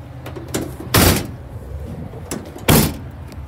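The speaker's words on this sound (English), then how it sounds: "Passenger side sliding door." Passenger-side sliding door on a 2016 Ford Transit van, heard as two loud, close broadband thumps about 1.7 seconds apart as the door slides and latches, with quieter rattling between.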